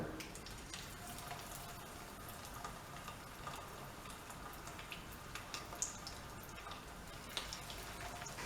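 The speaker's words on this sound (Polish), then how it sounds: "Kotlety smażymy, aż skórka będzie chrupiąca i złocista" Cauliflower cutlets frying in well-heated oil in a pan, a faint continuous sizzle with scattered small pops and crackles throughout.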